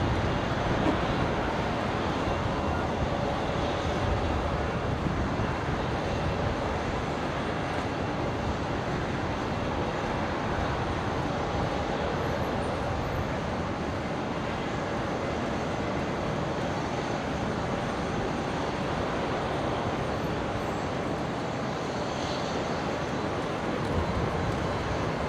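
A Qantas jet taxiing at Brisbane Airport gives a continuous broad engine roar and rumble, steady and fairly loud throughout with no talking.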